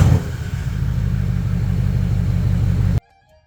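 A Porsche Cayenne S with a 4.2-litre twin-turbo V8 diesel, started cold, settles into a loud, steady low rumble at idle, close by and alone, before cutting off abruptly.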